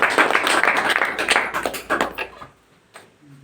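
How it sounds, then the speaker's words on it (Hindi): A meeting audience breaks into loud, sustained clapping at a business-plan presentation, dense crackling applause that fades out after about two and a half seconds, leaving near quiet. "तो जोरदार ताली।"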